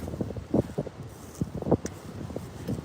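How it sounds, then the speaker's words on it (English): Gusty wind buffets the microphone in irregular low rumbling bursts during bushfire danger conditions, rising and falling with no voices present. "windy here"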